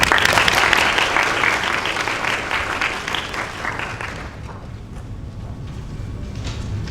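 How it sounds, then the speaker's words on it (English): Dense applause from a seated audience at a medical school white coat ceremony, loud at first and then fading gradually to lighter clapping over several seconds. "I like the way that Dr. McGovern needed to cue you to clap."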